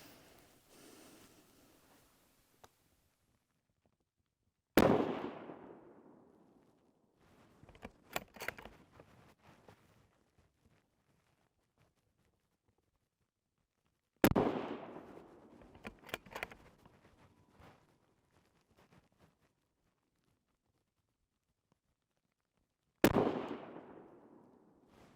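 .308 Winchester rifle shots loaded with 39 grains of Varget powder go off about every nine to ten seconds, three sharp loud cracks with echoing tails, each followed by faint clicks and rattles of the action in an otherwise quiet outdoor setting.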